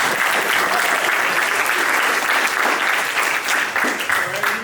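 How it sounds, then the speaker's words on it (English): A media day audience breaks into loud, steady applause, with dense clapping continuing throughout and a faint murmur of crowd beneath it. "Give her a round of applause."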